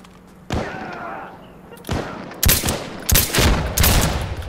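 Gunfire in the video game Insurgency Sandstorm: a few sharp, loud shots arrive in quick succession near the end, after a quieter stretch with a faint voice.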